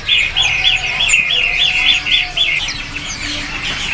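Songbirds calling at a bird market kiosk, a loud, rapid series of bright, repeated chirping notes for about three seconds, with other bird chatter and market noise around it.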